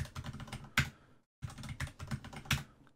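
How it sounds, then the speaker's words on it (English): A passphrase is typed on a computer keyboard, with quick close clusters of key clicks in two bursts split by a short pause, each burst ending in a heavier keystroke. "I'm going to type in a passphrase"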